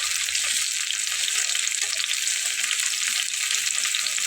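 A beaten egg frying in a pan, a steady, even high sizzle that holds close and fairly soft throughout with no talking.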